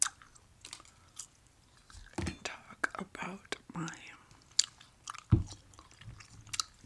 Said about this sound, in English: chew some gum